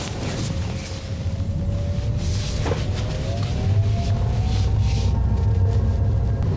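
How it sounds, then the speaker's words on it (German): Inside a Fiat 500e electric car at low speed, a faint whistling artificial drive tone rises slowly in pitch over a constant low road rumble. "im niedrigen Geschwindigkeitsbereich, so bis 30 km/h, hört man hier im Inneren so ein Säuseln"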